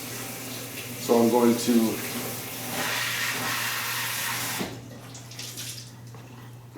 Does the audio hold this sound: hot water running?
yes